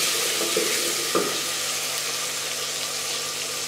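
Whole round red chillies dropped into hot oil in a pan give a steady, loud, hissing sizzle with small crackles near the start, continuing evenly throughout.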